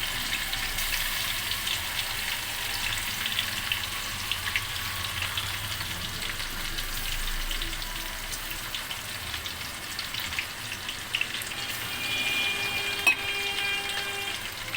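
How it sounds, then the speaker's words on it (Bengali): Spices sizzle in hot oil over low heat as the tempering for a mixed-vegetable khichuri, a soft, continuous frying hiss with faint stirring scrapes and a brief clink near the end. "ফোড়নে দিয়ে দিচ্ছি এবার এই জন্য দেখে আঁচটা কিন্তু আমার কমানোই আছে"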